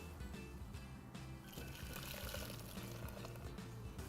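Custard mixture of milk being poured from a bowl back into a saucepan for a strawberry trifle, a steady liquid pour and trickle at close range lasting several seconds, with no talking.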